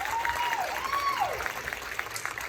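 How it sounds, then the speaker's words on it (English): Audience applause fills the hall after a performance at a high school band and choir spring concert, steady and fairly close, with a rising and falling whistle cutting through the clapping. "A round of applause."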